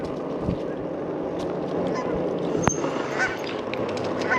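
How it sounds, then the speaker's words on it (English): Geese honk repeatedly in the distance over a steady outdoor rumble of wind and background noise, near a golf course in Longmont, Colorado, in autumn. "A lot of geese."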